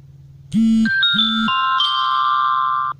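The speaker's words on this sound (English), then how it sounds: "That's a text message." A phone text message alert plays a short melodic sequence of bright electronic tones, a few quick rising notes then a held chime, clear and close.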